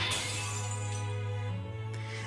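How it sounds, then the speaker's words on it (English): A glassy shattering crash as the sword Caliburn breaks in the Fate/Stay Night visual novel, ringing over a steady low hum with scattered breaking fragments. "it shatters instantly in the face of Merodach, the original sin"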